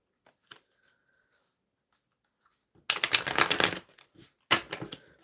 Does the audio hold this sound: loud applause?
no